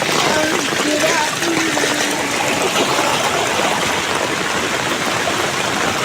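A swollen river in flood runs past a field in Iritty, Kerala, after rains and a suspected landslide in the Aralam forest. Its rushing water makes a loud, steady roar that fills the whole stretch without a break.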